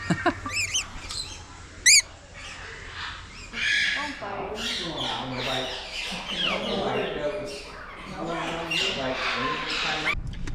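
Birds squawking and calling at a hands-on bird encounter in Tennessee, with sharp calls rising over steady chatter from people nearby throughout.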